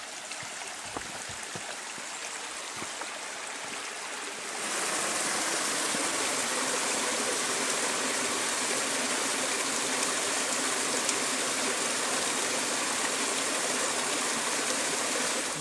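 Bowerbird Creek runs across a hiking track on the Border Track between Binna Burra and O'Reilly's. The water rushes steadily, quieter at first, then louder and nearer after a few seconds, with no voices.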